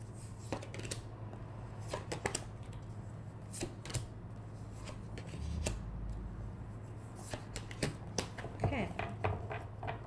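Tarot cards being shuffled and handled in a series of soft papery riffles and taps, with a low steady hum underneath and faint speech-like sounds at times.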